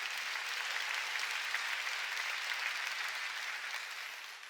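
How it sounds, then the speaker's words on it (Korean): A church congregation clapping during a Sunday worship service, a steady, even wash of applause from many hands that holds for several seconds and then fades gently. "깨달은 사람만 박수쳐."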